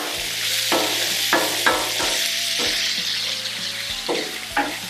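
Hashbrowns fry on a Blackstone griddle under a steady close sizzle, with a spatula scraping and tapping the flat-top every second or so as the pieces are broken up and moved around.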